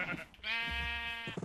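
A single sustained sheep bleat from a video game, loud and close, holding steady for about a second with a wavering tone, set against faint background noise.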